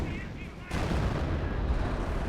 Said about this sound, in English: there's some artillery falling onto us